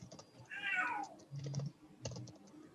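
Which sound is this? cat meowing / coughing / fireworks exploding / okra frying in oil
cat meowing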